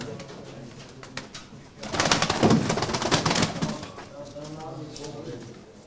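Low, soft cooing from a nearby tumbler pigeon, with a burst of wing flapping or rustling in the middle and voices talking faintly around it.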